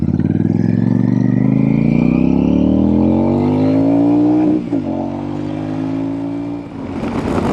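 A Royal Enfield Super Meteor motorcycle engine revs up in a long rising whine, briefly drops as it shifts gear, then pulls again, loud and close.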